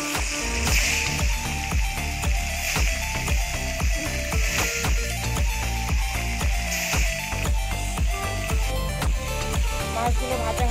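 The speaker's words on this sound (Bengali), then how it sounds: "মাছগুলো ভাজা হতে থাকে" Katla fish pieces frying in hot white oil in a kadai, a steady dense sizzle with a repeating clattering, mechanical rhythm running throughout.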